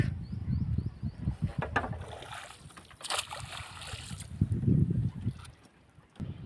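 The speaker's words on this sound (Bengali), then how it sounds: "নৌকাটা আস্তে আস্তে চলছে" Small crab-fishing boat moving slowly down the middle of a river, giving a soft, uneven low rumble with water noise and a few faint bird chirps in the background.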